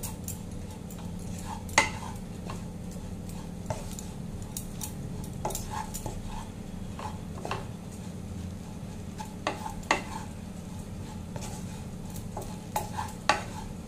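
Oats pulao with vegetables being stirred in a pan, the spatula scraping and clicking against the metal in an irregular rhythm over a steady low sizzle, close and fairly quiet.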